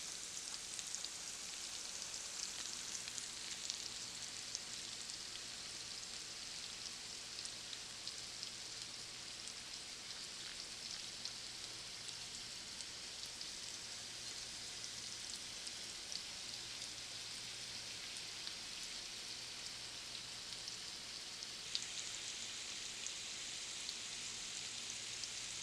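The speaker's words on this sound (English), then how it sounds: "Let it sit and fry some more." Chicken drumsticks fry in a pan with a steady, even sizzle and fine crackle that runs unbroken for the whole stretch, close and moderately loud, with no voices.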